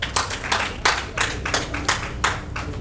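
Audience applause at a panel discussion on family law and women's rights, heard as evenly spaced, fairly soft clapping that repeats in a steady rhythm.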